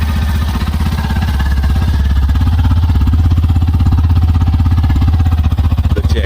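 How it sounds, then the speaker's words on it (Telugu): A 2025 Hero Glamour X 125 motorcycle idles close by, its exhaust putting out a steady, even low thump at a regular rhythm that holds unchanged throughout, with no talking over it. "అలాగే ఎగ్జాస్ట్ నోట్ కూడా చూద్దాం ఒకసారి"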